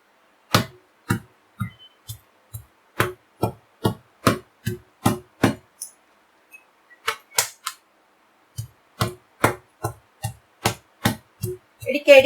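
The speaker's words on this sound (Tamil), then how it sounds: "நல்லா இடிக்க இடிக்க இடிக்க மாவு வந்து நல்லா இலகி சாஃப்டா ஆகுங்க" Papadum dough pounded repeatedly, each hit a sharp, close thud in a steady rhythm, broken by a couple of short pauses.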